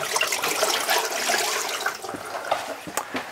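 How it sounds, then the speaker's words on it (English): Antifreeze pours steadily into the sink drain of a Bambi Airstream travel trailer, making a continuous close gurgle and splash that thins toward the end, with no talking. "So we're going to go ahead and pour some right here in the sink, just a nice liberal amount"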